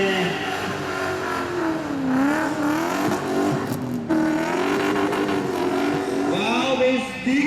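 Drift car, a Nissan fitted with a BMW engine, at a drift round at Biķernieki, revving and wailing in rising and falling sweeps as it slides, loud and continuous with a commentator talking over it.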